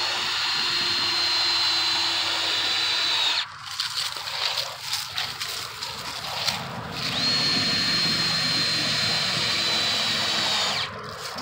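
Power drill driving screws into boards of a four-board fence outdoors, two long steady whining bursts separated by a short pause with clunks and handling noise.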